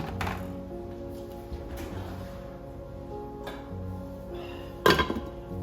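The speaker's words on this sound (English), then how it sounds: "From here on, we're gonna just cover it" A metal lid goes onto a simmering pot of minestrone soup with carrots, landing in one sharp clink near the end after a few soft taps and a low hum.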